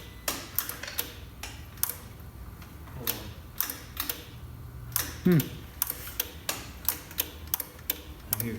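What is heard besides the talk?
clicking in car fuse box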